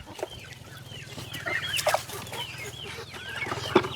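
Chickens cluck repeatedly on a farm, with a steady low hum running underneath and occasional louder squawks close by.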